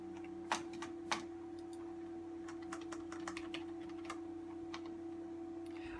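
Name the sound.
computer keyboard typing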